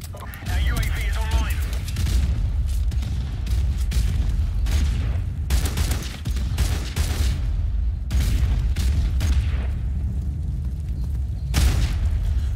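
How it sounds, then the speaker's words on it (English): A grenade explodes in a video game shooter, part of a dense run of loud, close booms and bursts repeating irregularly through ongoing gameplay noise. "that nade blew up right in my face"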